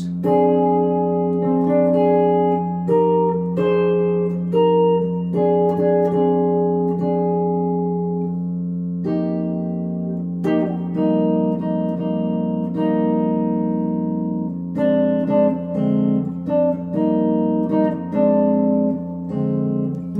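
A guitar works through four-part chord voicings with one voice left out, a sustained bass drone under a series of plucked chords that change every second or two, clean with some effects, close and steady, no talking.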